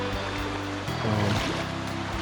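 Creek water running across a ford at Charlie's Creek on the Georgia Traverse, a steady, broad wash of flowing water close by with a few low thumps, no talking.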